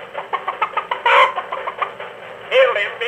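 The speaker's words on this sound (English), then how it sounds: "Hey, look out for that chicken." A chicken on a road clucks in a quick, rhythmic run of short calls, then lets out two louder, drawn-out squawks, close and clear with no other sound around it.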